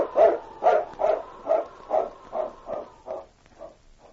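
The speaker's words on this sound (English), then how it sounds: "A different howl, which he recognized as a distress call of the dog he looked upon as a mate" A dog, a great husky, gives a distress call as a radio drama sound effect. About ten evenly spaced yelping cries fade steadily from loud to faint, with no voices over them.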